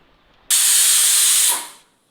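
Steam hisses out of a pot of cooking khichdi when the lid comes off, a loud, close, steady rush lasting about a second before it fades away.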